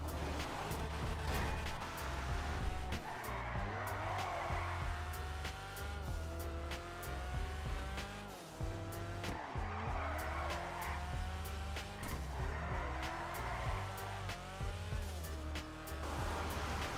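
Video game car drifting in GTA 5, its engine droning loud and steady while tires squeal and skid in repeated sweeping bursts, with one spin-out partway through.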